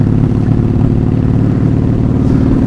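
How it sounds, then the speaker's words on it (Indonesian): Honda Magna 750cc V-twin motorcycle from 1984, started and revved hard right away, a loud, close, steady engine roar with a rumbling low throb that holds without a break. "Jadi emang pas starter langsung geber, blar."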